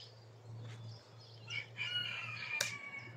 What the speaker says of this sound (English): There's the roosters going,